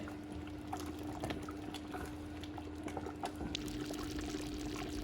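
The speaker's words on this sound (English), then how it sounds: "the bubbles are getting quite tighter now and a lot smaller and bubbling away quite a lot" A thickening mixture bubbling steadily in a pot as it cooks, a soft continuous simmer of small, tight bubbles with scattered pops, heard close and alone.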